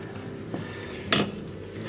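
A spoon clinks and scrapes against a pot while thick vegetable soup with crushed garlic is stirred, a couple of short metallic knocks over a quiet kitchen hum.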